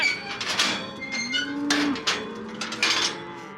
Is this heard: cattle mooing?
yes